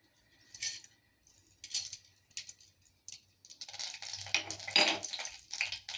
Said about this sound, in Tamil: பொரியுதுங்க.